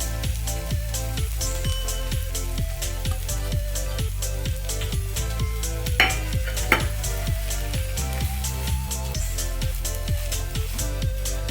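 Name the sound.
stirring spices into frying methi chaman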